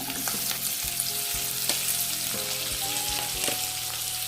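Large onions frying in a pan with cumin and whole garam masala, a constant close sizzle and crackle with repeated spoon-against-pan scrapes and taps as they are stirred.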